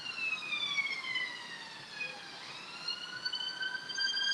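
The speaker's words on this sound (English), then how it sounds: "The ambulance go fast." An ambulance siren passes in the distance, its steady wail sliding down in pitch partway through over a constant murmur of traffic.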